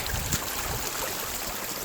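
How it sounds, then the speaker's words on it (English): A creek runs with plenty of water at a slowed pace, a steady broadband rush and trickle heard alone and fairly near. "the creek's got a lot of water in it still, but the overall speed, fastness of the water, whatever, has slowed down quite a bit"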